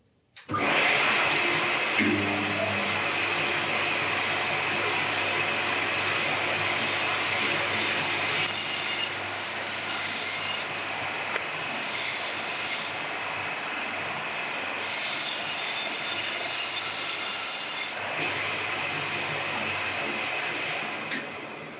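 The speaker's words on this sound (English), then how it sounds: "I'm going to take it over to the bandsaw, just cut off this area here" A bandsaw cuts through a cracked elm log, a loud sustained whine and roar of the blade running through the wood for about twenty seconds, with no talk over it.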